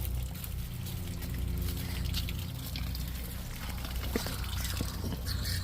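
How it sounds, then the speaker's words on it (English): Water runs and pours steadily from a garden tap while filling a container outdoors in a Florida backyard, a continuous close trickling gush with faint background noise and no talking. "Oh, we're not supposed to be running that water"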